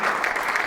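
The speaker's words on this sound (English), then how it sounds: "So give a round of applause here for Anthony as he comes up to talk to you today." An audience applauds a speaker named Anthony, a brief dense burst of many hands clapping at close range with no voices over it.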